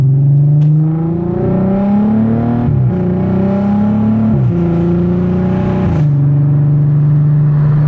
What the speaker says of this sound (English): That was a fair DSG fart just then, wow. Going from third to fourth